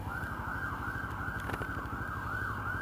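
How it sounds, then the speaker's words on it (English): An ambulance siren wails loud and steady as the vehicle passes close by on the road, its rising and falling tone cycling over a low engine rumble, with no talking. "I see an ambulance coming, so we're going to hang out for a minute."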